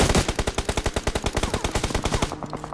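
Rapid automatic gunfire in the BGMI battle royale video game, a loud, fast string of about two dozen evenly spaced shots that cuts off abruptly near the end, with no voices.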